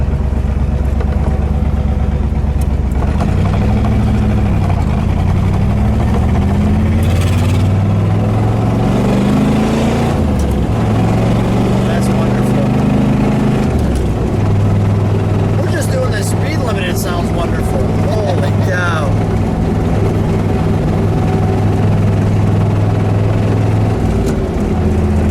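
A burgundy 1969 Chevrolet Corvette with an L89 427 V8 and a 4-speed manual, with 3.55 gears, pulls through the gears on the road. A deep, loud exhaust drone climbs in pitch and then drops at each shift while people talk over it.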